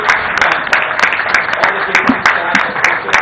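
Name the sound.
round of applause for the chairperson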